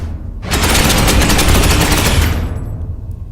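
Loud, rapid automatic gunfire from squad weapons in the video game Space Hulk Ascension, a continuous close burst lasting about two seconds before cutting off into a fading echo.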